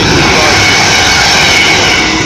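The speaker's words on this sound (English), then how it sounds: "Passing on its way up is a freight" Loud, steady roar of a freight train passing close by at a railway line near Crewe, a dense continuous rumble with no breaks.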